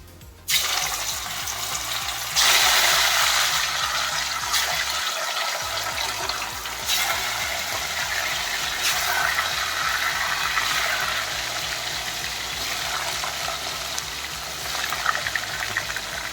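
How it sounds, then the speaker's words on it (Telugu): Remaining fish pieces deep-frying in hot oil for a crispy fish fry, a steady loud crackling sizzle that swells in after a brief quiet start and runs on continuously with no talking. "మిగిలిన ముక్కలన్నీ వేసి ఫ్రై చేసుకుందాం"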